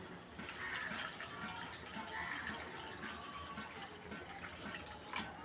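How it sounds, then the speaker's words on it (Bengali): Water pours steadily into a pan of potato and shrimp curry, a soft continuous splashing rush that stays fairly quiet and even throughout. "এবার জল দিয়ে দিব।"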